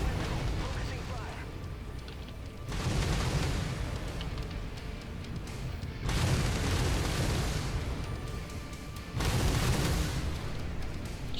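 Salvos of SRM missiles launched and bursting in a BattleTech-style mech combat game, three loud rumbling barrages of booms and blasts, each lasting a few seconds, separated by quieter stretches of steady background roar.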